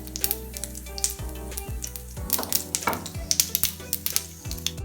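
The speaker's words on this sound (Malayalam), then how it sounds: "കടുക് പൊട്ടണം." Mustard seeds popping in hot oil in a pan while clams are being fried, with sharp irregular crackles and pops over a steady close sizzle, alone without talk.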